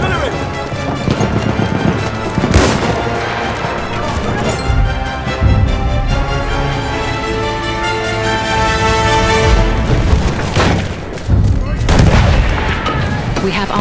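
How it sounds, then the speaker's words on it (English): Artillery shells boom amid constant gunfire during a Battlefield 1 multiplayer Rush battle, with heavy blasts standing out at a few moments over a dense, loud wall of combat noise and game voices. "Enemy coordinates have been sent to our artillery."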